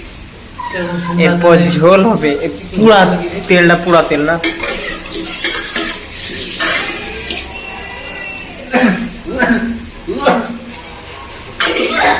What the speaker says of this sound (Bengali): মাছ ভাজা কমপ্লিট এবার আলু ভাজছি